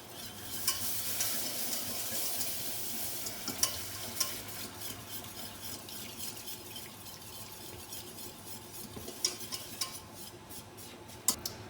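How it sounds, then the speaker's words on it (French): A utensil stirs flour into a sauce in a pan for salmon lasagne, making a steady scraping and rubbing sound over a soft sizzle. Occasional light clinks come from contact with the pan, and no one talks. "on mélange bien, pas que ça s'attache, bien incorporer la farine"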